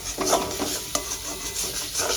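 Coriander, cumin and red chilli powder fry in a pan for a thin katla fish curry, producing a brief close sizzle with rhythmic scraping stirs and one sharp knock of utensil on pan.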